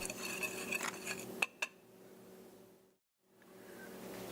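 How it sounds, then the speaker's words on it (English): A metal whisk clinks and scrapes against a bowl while mixing flour, salt and sugar, with quick rhythmic taps and two sharp knocks before the sound drops away into near silence and then faintly resumes. "you want to mix all the dry ingredients together using a whisk"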